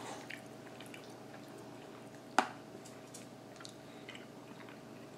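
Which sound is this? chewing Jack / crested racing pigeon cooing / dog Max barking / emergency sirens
chewing Jack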